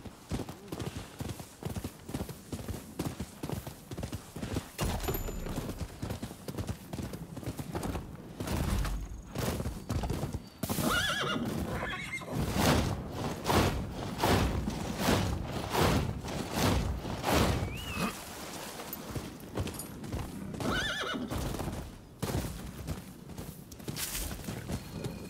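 Rhythmic clip-clop of a horse galloping in the video game Rise of the Ronin, with occasional neighing and bursts of gunfire and combat, while someone talks intermittently over the game sounds.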